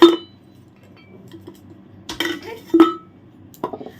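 A stainless steel oil container with a handle, meant for kitchen use, is handled and set down, giving several sharp metallic clinks and clanks spaced apart with quiet between, close by.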